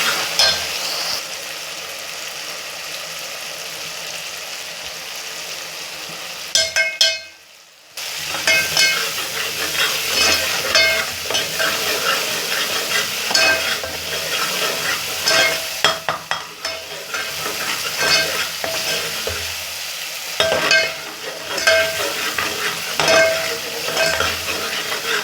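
Spices for masoor and moong dal sizzle and fry in a pan while being stirred, a steady close hiss with scraping stirs, briefly breaking off once before continuing.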